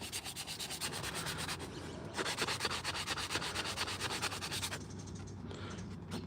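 Continuous rhythmic sanding of a hand-carved wooden spoon, a steady close scratchy rubbing with brief pauses and changes in stroke, alone without voices.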